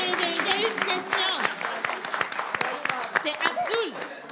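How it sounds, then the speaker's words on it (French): Applause from an audience cheering a candidate at a live event, steady clapping running throughout with whistles and crowd voices layered on top. "Applaudissez pour votre candidat."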